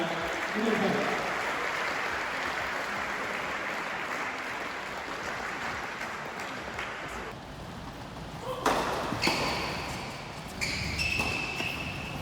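Spectators applaud the two players of a tennis semi-final at Don Bosco Tennis Nantes, a broad wash of clapping that thins partway through, followed by a few sharp knocks and thuds in a large indoor hall.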